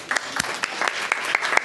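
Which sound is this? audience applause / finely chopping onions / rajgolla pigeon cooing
audience applause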